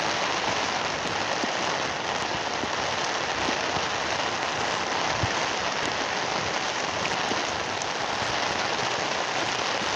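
Heavy rain falls steadily and loudly on a surface, a dense continuous hiss with scattered drop impacts throughout, no voices.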